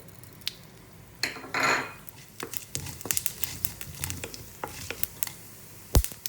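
Onion, garlic and green chillies sauté in oil in a hot pan for an egg drop curry, with a soft background sizzle and frequent sharp clinks and scrapes of a metal spoon against the vessel, close by and without talking.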